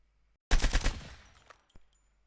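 An ASM10 assault rifle fires in Call of Duty Mobile, a short rapid burst of about five loud close shots followed by a fading tail and a faint mechanical click.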